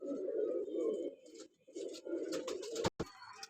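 A pair of teddy breeder pigeons coos in low, throaty, repeated phrases close by, with brief pauses, then a few sharp rustles or wing flaps near the end.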